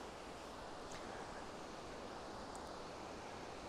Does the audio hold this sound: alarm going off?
no